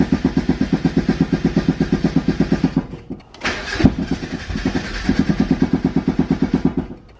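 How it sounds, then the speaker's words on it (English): A Mazda Miata engine, with the car raised on jack stands, turns over in a steady rhythmic crank, catches with a brief roar, then settles into a lumpy idle and resumes a pulsing cadence, loud and close. "Now we're going to start this thing up and put it in gear on jack stands."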